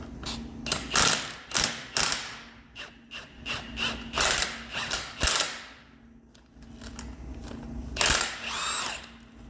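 A ratcheting spring compressor tightens on the coil spring of a Chevrolet Volt front strut, with a series of close mechanical clicks and grinding pulls in an uneven rhythm, then a brief lull before another burst.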